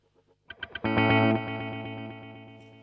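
A few picked guitar notes then a loud strummed chord fed through a Fractal FX8 multi delay in quad tap mode, the chord ringing on with layered delay repeats that slowly fade, heard alone and up close.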